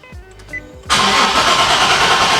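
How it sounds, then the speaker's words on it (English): A car engine cranks with a few quick starter whirs, then catches abruptly into a loud, roaring startup that settles into a steady, strong idle, recorded close by with no voices. "when it's warmed up and you go to start it again, the startup is like so aggressive"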